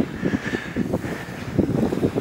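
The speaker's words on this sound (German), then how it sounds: "Ich hoffe mit dem Wind, das ist nicht zu stark." Wind gusts into the microphone outdoors, with low, uneven rumbling bursts that rise and fall throughout the short stretch, fairly loud and close.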